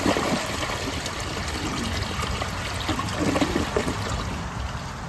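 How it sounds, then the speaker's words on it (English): A 2006 Kohler Wellworth Ingenium toilet flushing, water rushing and gurgling steadily through the bowl at close range, loud and continuous without speech. "let's give it another flush."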